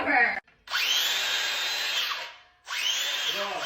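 An electric drill runs loud and close in two sustained whirring bursts, each spinning up sharply, separated by a brief silent pause, with a short stretch of another sound at the start.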